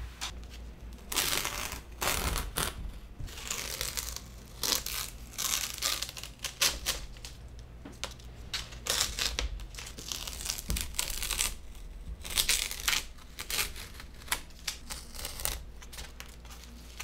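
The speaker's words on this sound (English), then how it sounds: "I want to remove the tape just so I have a better look" Tape being peeled off a finished sketchbook painting, crackling tearing and crinkling in irregular bursts, close and continuous for many seconds.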